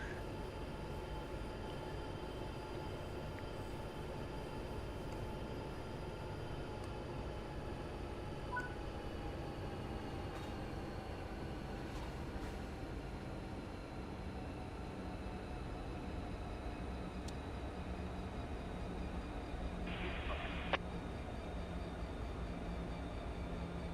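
A BNSF GP60M diesel locomotive in a train simulator, accelerating on a 2% grade with a steady low engine drone and faint higher whine, continuous and moderately quiet, with a brief tonal beep near the end.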